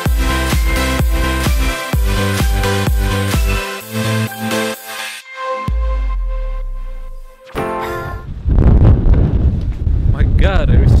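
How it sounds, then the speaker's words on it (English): Strong outdoor wind buffets the microphone in a loud, rumbling roar over the last few seconds, after a stretch of rhythmic music. "My god, it is so windy today."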